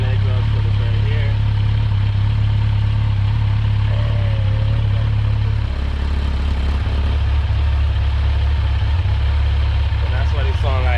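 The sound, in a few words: Kawasaki Z900 motorcycle engine idling, exhaust comparison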